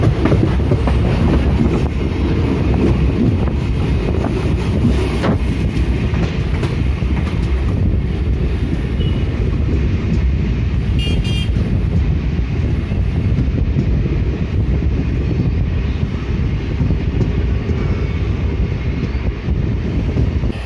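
A DEMU train arrives at single-platform Lataguri station, rumbling steadily with a rhythmic clickety-clack of wheels over rail joints and gusts of wind buffeting the microphone throughout.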